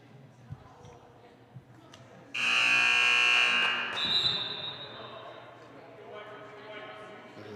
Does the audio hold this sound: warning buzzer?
yes